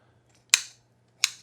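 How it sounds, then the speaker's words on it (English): Two crisp snips of kitchen scissors cutting through cooked bacon for breakfast muffins, close and distinct, spaced under a second apart over a faint steady hum. "using scissors to cut up bacon"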